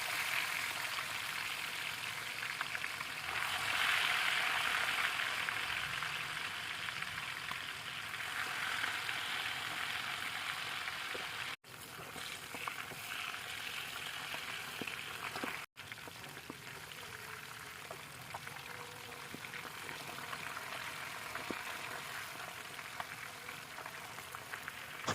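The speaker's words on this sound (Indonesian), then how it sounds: "Lanjut goreng lele yang sudah dimarinasi tadi." Marinated catfish fries in hot oil, giving a steady, dense crackling sizzle that runs loud and unbroken throughout, close by, with no talking.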